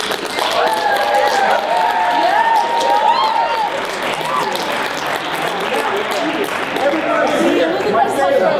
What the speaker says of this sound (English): give them a round of applause for helping